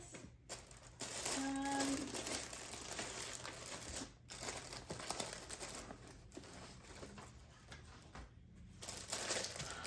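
Paper crinkles and rustles up close while a jewelry order is folded for shipping, a steady stream of soft crumpling with brief pauses.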